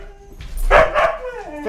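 A pet dog named Faith barks indoors, a couple of sharp close barks and a yip mixed in with a person scolding it.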